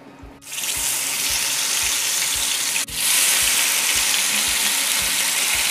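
Fish dropped into hot oil for a Kerala-style fish fry sets off a loud, hissing sizzle that surges twice and then holds steady and close, with faint rhythmic low thumps underneath.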